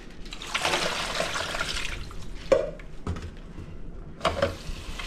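Water is poured into a cooking pot to boil guava leaves, a broadband splashing pour lasting about two seconds that gives way to softer liquid sloshing and a few clinks of the pot, with no talking.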